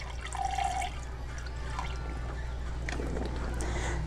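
Water is poured for measuring, giving faint trickling and small splashes against a low background hum, with no talking.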